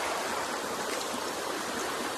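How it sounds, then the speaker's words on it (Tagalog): Waterfall by a river, a continuous rushing roar of falling water, steady and close with no pauses. "Uy, may falls."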